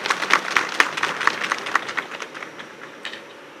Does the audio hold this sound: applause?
yes